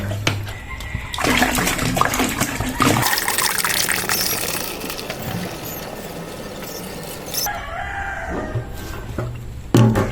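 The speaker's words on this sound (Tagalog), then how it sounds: "Pag tunaw na po yung pub gel, saka po natin ilagay itong 20 liters of water." Twenty liters of water gush into a homemade fabric conditioner mix in a steady, loud pouring rush lasting several seconds, with rooster crowing and a voice heard faintly around it.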